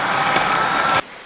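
Rain falling in the Roblox game 99 Nights in the Forest: a steady, loud broadband hiss that stops abruptly after about a second, leaving near silence.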